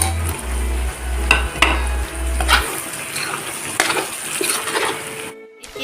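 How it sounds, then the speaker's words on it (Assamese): Duck curry sizzling in a pan as cut pumpkin pieces are tipped in and stirred, with repeated clanks and scrapes of a metal utensil against the pot over a constant frying hiss, plus a low steady hum early on. "এতিয়া মই ইয়াতে যিখিনি কোমোৰা কাটি থৈছিলোঁ কোমোৰাখিনি দিম"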